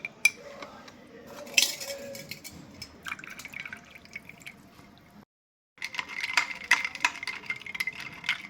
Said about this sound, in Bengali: লবণ আন্দাজ মতন দিয়ে নিয়ে গুলে নিচ্ছি